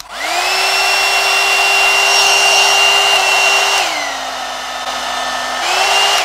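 A knockoff brush hair dryer, a cheap dupe of the Revlon One Step, spins up with a loud whining motor hum, holds steady, drops to a lower pitch as the setting changes, then rises again.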